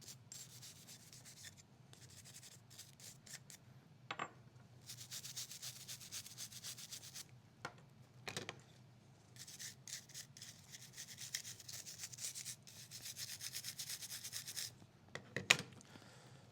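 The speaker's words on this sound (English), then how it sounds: "use a nylon brush to break up any of that carbon or dirt buildup" A nylon brush scrubs carbon and dirt off the parts of a Taurus GX4 pistol, giving dry, scratchy rubbing strokes in bursts with short pauses between them, close and fairly quiet, with no talking.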